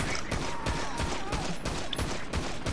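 Gunfire in a GTA roleplay game: a rapid, steady string of sharp shots cracks out at a regular rhythm, moderately loud, over a busy background.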